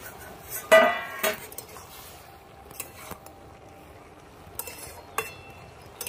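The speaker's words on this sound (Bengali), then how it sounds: "ঢাকনাটা খুলে একবার দেখে নেব বাঁধাকপিটা সেদ্ধ হলো নাকি।" A metal lid is lifted off a cooking pot of boiling cabbage, giving a couple of close, bright clinks followed by a few faint taps and quiet kitchen background.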